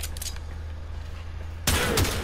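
A Tiberon Prime rifle fires semi-automatic rounds in the Warframe video game against high-level enemies, with a loud sharp burst of gunfire erupting suddenly after a steady low hum.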